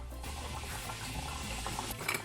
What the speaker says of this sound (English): We are gonna fry the empanadas on high heat.